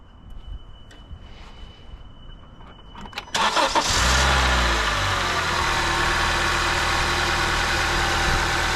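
A Honda Civic engine, just refitted with a new engine mount, cranks and catches after a quiet stretch, then settles into a loud, steady idle with a constant low rumble and vibration.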